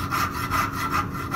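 Short, rhythmic hacksaw strokes cut a curve into a metal workpiece clamped in a vise, a steady back-and-forth rasp repeating about every half second, close and fairly loud, with no talking.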